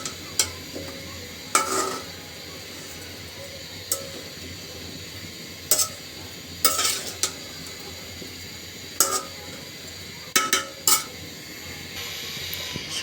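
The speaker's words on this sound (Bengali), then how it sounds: "সবজির সাথে মশলাগুলো খুব ভালোভাবে আমি মাখিয়ে নিলাম" A spoon scrapes and clinks against a pan while vegetables are mixed with spices, in sharp intermittent strokes about every second or two over a faint low sizzle.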